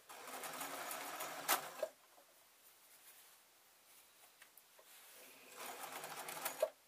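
A sewing machine stitches a jelly roll quilt tube in two bursts of rapid, even whirring, one at the start and one near the end, with a quiet pause between them.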